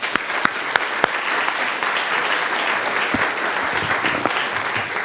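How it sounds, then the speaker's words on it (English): An audience at a greenhouse seminar applauds panelists and presenters, with dense clapping and a few sharp claps standing out near the front. "let's give our panelists and presenters a round of applause"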